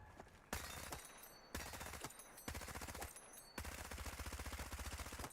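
A gun is test-fired in a shooter video game: several loud bursts of rapid automatic fire in close succession, each run of rattling shots separated by brief pauses.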